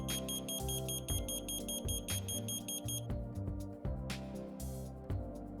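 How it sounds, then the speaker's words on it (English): A shrill electronic alarm from a water leak detector beeps in repeated pulses, fairly faint and continuous. "When a leak is detected, an audible alarm can be heard coming from the detectors."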